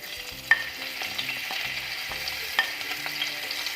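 Ginger, garlic, green chili and curry leaves sautéing in hot oil, a soft continuous sizzle with a couple of sharp clicks as the spoon moves, close and fairly quiet.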